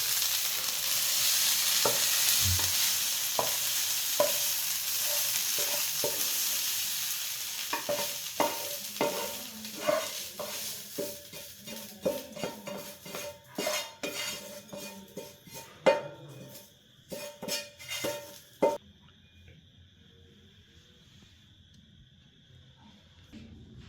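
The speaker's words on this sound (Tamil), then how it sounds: "ஆஃப் பண்ணிவிட்டு இதை ஒரு பவுலுக்கு ட்ரான்ஸ்ஃபர் பண்ணிடலாம்." A spoon scrapes cooked chicken sandwich filling out of a pan into a bowl. Irregular clinks and scraping strokes run close and distinct over a fading sizzle, then taper into near quiet.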